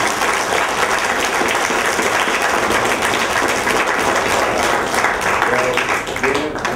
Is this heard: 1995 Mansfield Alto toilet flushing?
no